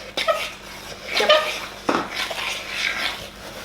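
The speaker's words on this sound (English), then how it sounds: "now we're gonna mix it with a fork" Fork scraping and clinking against a bowl while vegan banana and chocolate chip muffin batter is mixed, in irregular close bursts over faint background voices.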